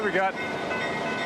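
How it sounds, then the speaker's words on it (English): Train passing through New Orleans, a steady close rumble that runs throughout, with someone briefly speaking at the start. "a train coming by behind the camera"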